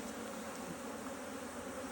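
Honeybees swarm in a dense, steady hum at an open hive on a cloudy day, the drone filling the clip continuously with no pauses and no voices.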